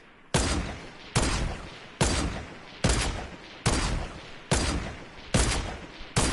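Gunshots fired in a video game, eight loud, evenly spaced single shots roughly every 0.8 seconds, each sharp crack trailing into a decaying echo, with no talking.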